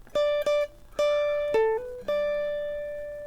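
An electric guitar plays a short phrase from a guitar solo, clean single notes with one bend and sustained ringing tones, clear and close with no talk.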